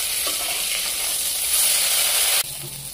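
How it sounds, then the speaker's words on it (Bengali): Steady sizzling of small carp frying in hot oil, with a brief shift in tone near the end as it is flipped over. "মাছটা একদিকে হয়ে গেছে, উল্টে দিচ্ছি।"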